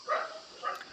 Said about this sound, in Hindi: कुत्ते भौंक रहे हैं यार।